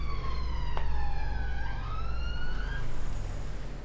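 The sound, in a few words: sirens outside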